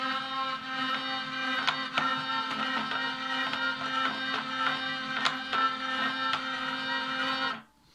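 A hurdy-gurdy sounds its drone strings in a continuous buzzing, scratchy hum, with a quiet melody line and occasional percussive clicks over about eight seconds before it stops abruptly. It is close and steady with no talking.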